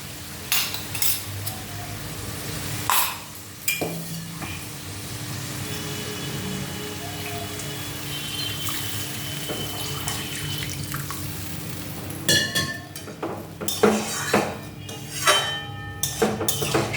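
Water poured into a simmering fish curry in a pan, giving a steady rushing splash and sizzle, followed by clattering of utensils and pan knocks toward the end, close by with no voices.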